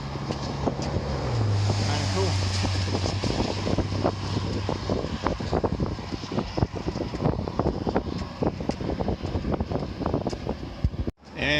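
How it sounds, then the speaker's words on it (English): Wind gusts across a bridge high over a river, roaring into the microphone in a steady rush with rougher buffeting bursts, while someone talks briefly over it. "It's a little bit windy out here,"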